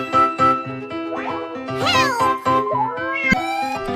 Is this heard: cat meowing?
yes